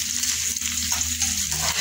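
Ginger sizzles steadily in a hot frying pan, a dense close crackle of frying with faint stirring scrapes and no voices.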